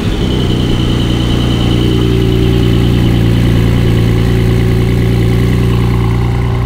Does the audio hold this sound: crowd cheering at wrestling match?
no